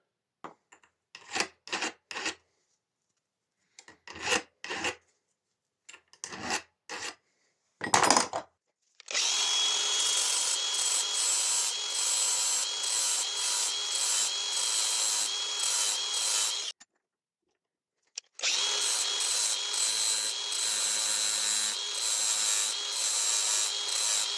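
The serrated blade of a STIHL SH 86 vacuum shredder is sharpened by hand: a few short, separate rasping strokes come first, then long, continuous grinding scrapes, loud and close, with a short break between them.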